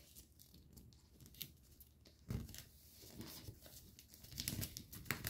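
Paper being folded and creased for an origami fighter jet, soft crinkles and rustles with a few sharper crackles, quiet and close, no talk.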